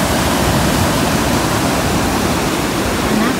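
A waterfall at Big Whiteshell in the evening roars as a constant dense rush of water, loud and unbroken throughout, with no voices.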